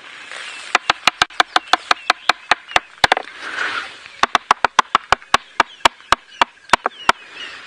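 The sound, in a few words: knocking on tree trunk like woodpecker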